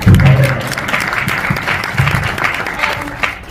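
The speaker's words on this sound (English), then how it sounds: "In my district, please clap for that." An audience at a fireside chat with the US Secretary of Education claps in a short burst of applause that starts strong and then settles into steady, moderate clapping.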